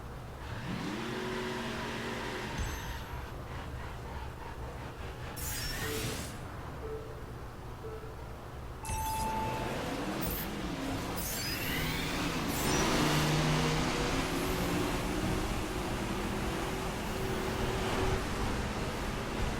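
Car engines in a racing video game, a Ford Mustang and a Dodge Viper driving together, a steady loud engine drone throughout with shifting pitch as they accelerate, no talk.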